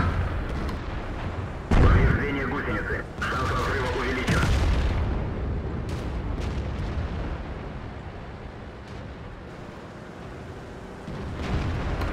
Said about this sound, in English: But eventually artillery will shoot you.